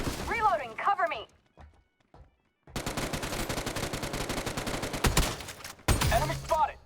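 Video game gunfire: a long, dense burst of rapid automatic shots firing loud and close for about three seconds, then a short final volley, with someone talking before and after the shooting.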